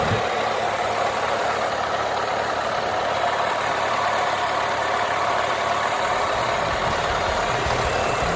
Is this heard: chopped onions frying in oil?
no